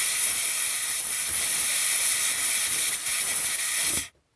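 A SodaStream carbon dioxide port blasts gas into a sensor, a loud, steady close-up hiss lasting about four seconds before cutting off abruptly into silence.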